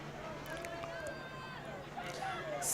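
Crowd noise in the stands at a high school 2A playoff football game between the FCHS Mules and the Pana Panthers, a steady, fairly distant murmur of voices with a few brief shouts, continuous throughout.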